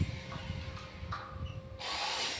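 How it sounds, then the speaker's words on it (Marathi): Welding on box-section steel pipes at a house-building site in Rajapur, Ratnagiri, in Konkan: a continuous gritty crackle over a steady hum, close and fairly loud, turning to a brighter sustained hiss near the end, with no voices. "पाईपांना बॉक्स पाईपांना वेल्डिंग करता"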